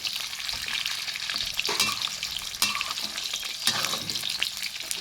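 Steady, crackling sizzle of tofu frying in hot oil in a pan, with occasional louder pops and spatters over the continuous hiss.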